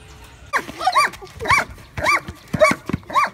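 Close, excited barking from a dog, several high-pitched barks and yelps in an uneven burst, loud and with no voices.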